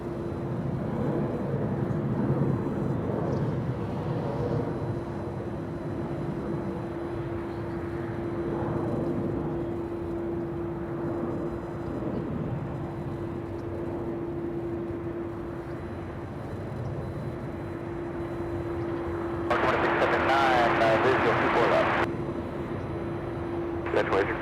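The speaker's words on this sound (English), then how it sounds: "Crossing the 405 freeway, we have Delta 773 flying in from JFK." Delta Boeing 777 from JFK crossing the 405 freeway on approach to land at LAX. A low, continuous engine rumble with a steady hum sits under talking, and a brief noisy burst comes near the end.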